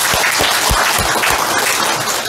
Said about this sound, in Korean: 우리 하나님께 영광의 박수 한 번 더 올려드리겠습니다